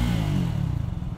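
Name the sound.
Triumph Speed 400 motorcycle exhaust note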